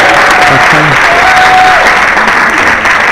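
Loud, sustained applause from a large audience at an interview event, steady and dense throughout with a faint tonal hum underneath.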